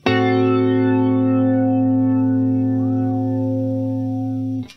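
A sustained clean guitar chord through a flanger rings steadily with a slow sweeping, swirling LFO modulation, fading out at the end.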